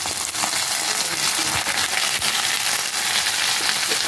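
Steady, dense crackling sizzle of onion-garlic paste frying in hot oil, loud and continuous throughout with occasional small pops.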